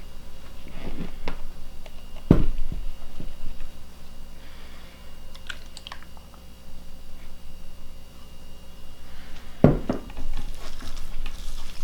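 Raw hamburger meat being mixed with sauce by hand, giving soft, wet squishing and irregular slaps up close, with a few sharper knocks against the bowl and no talk.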